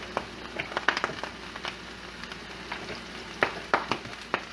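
Olive oil sizzling in a pan while chickpea lemon soup is cooked, a soft, steady crackle with scattered sharper pops and spits, fairly quiet and close, without talk.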